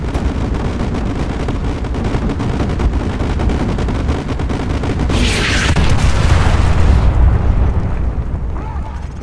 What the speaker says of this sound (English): Coordinates confirmed. Firing.